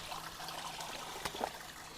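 Rainwater trickling and gurgling through a blocked roadside culvert after a storm, a steady low stream with a brief splash near the end, fairly quiet and alone.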